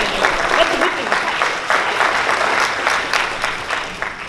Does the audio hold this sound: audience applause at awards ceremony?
yes